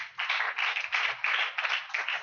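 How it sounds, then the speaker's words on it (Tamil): A church congregation at a praise and worship service claps their hands in a steady rhythmic beat, about seven sharp bursts of many hands, close and loud, with no talking. "கைத்தட்டி"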